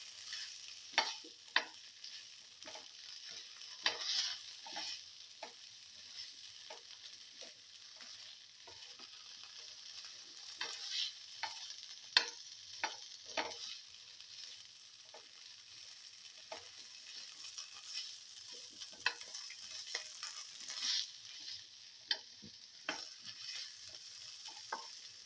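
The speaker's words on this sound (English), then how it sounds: "Fenugreek leaf, thoroughly sauteing it." Fenugreek leaves sauté in a pan with a steady soft sizzle, broken by repeated sharp scrapes and taps of a stirring utensil at an irregular pace, close and fairly quiet, with no talking.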